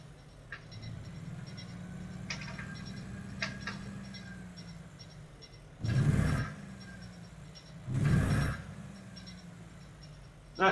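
Western Star 49X truck engine from inside the cab in American Truck Simulator: a long steady low idle drone, then two short loud revs near the end and a brief final blip.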